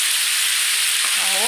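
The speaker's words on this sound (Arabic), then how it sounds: "بعد ما تشوح كده زي ما انتم شايفين" Meat sautéing in a pan: a loud, dense, continuous sizzle close up, with a voice starting briefly at the very end.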